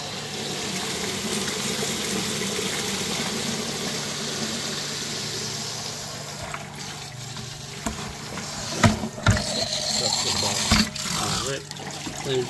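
Water pours and splashes into a cooler converted into a livewell, a steady rushing wash that grows choppier toward the end, with a voice talking over it.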